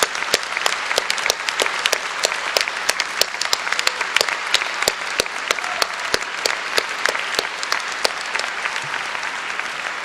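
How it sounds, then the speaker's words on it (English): An audience at a law school commencement ceremony applauds continuously, a dense wash of many hands clapping at steady loudness for the whole stretch, with no voices standing out. "And now let's give them a rousing round of applause, recognizing their extraordinary contributions to your success."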